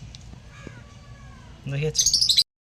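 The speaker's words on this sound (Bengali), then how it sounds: "ওরে বাবা কি চেঁচান চেঁচাচ্ছে সে আর সব পাখিগুলো এখন এক জায়গায় হয়েছে" A group of pet birds screeching together indoors, loud shrill calls bursting out near the end after a stretch of quieter chirps and background sound.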